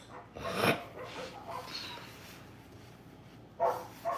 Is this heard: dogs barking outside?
yes